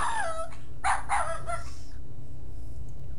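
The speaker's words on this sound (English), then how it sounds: "you have to wait until the dog is not barking" A dog barks a few times in King's Quest VII, sharp yips and bow-wows bunched in the first second and a half, followed by quiet background ambience.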